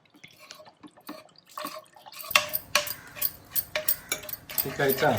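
A utensil stirs a thick white sauce in a pan, with repeated clinking scrapes and wet bubbling growing louder after a quieter start.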